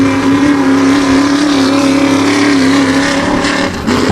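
A modified race car roars loud and close on the Wall Stadium track during qualifying, its engine holding a steady, sustained drone throughout.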